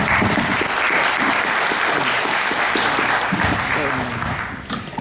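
An audience bursts into sustained applause at the end of a keynote lecture, a dense crowd of clapping that holds steady and then tapers off near the end.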